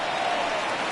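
A home crowd at a baseball game applauds and cheers right after the final out, a dense, sustained wash of clapping and crowd noise.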